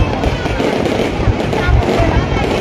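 Fireworks burst over Hoi An's old town at a 2024 New Year celebration, a dense, continuous crackle and rumble of explosions with people talking throughout.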